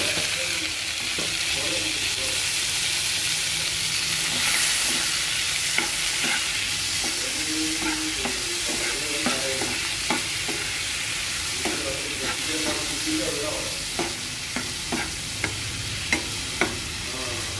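Tomato pieces and onions fry in a pan for oats upma, giving a steady loud sizzle throughout, while a spoon stirs with repeated scraping clicks that grow more frequent toward the end.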